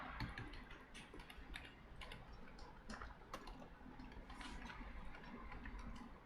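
Faint, quick clicking of keys on a computer keyboard during a JavaScript coding lesson, an irregular patter of light taps heard at a distance with no talk.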